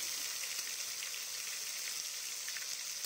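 Ground spice paste of dried chilli, ginger, cumin and black pepper fries in hot oil, giving a faint, steady, crackling sizzle that holds evenly throughout without talk.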